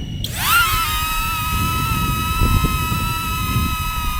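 A DJI Neo drone lifts off with a quick rising whine as its motors spin up, then holds a steady, close, high-pitched propeller hum with faint wind noise.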